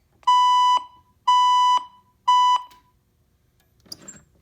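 A Fire-Lite MS-5UD fire alarm system with ECC-50/100 mass notification sounds three loud, identical electronic tones, each about half a second long with short gaps, followed by a brief faint click and rustle.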